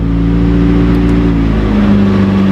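A Ford TX3 turbo twin-cam engine idles steadily with a raised idle-up hum while the air-conditioning compressor stays off, close and continuous.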